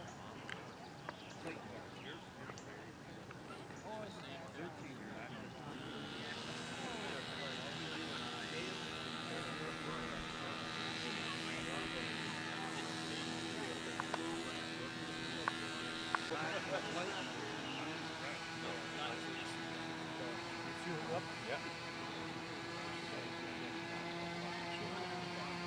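At a control-line model airplane competition, a small model engine whines continuously from mid-distance, its buzzing pitch rising and falling as the plane circles, with faint talk in the background.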